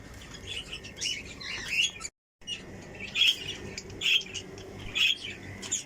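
Pet birds, including doves, chirping in a home aviary setup, with repeated close, bright chirps and squawks over a quiet background and a brief gap in the middle.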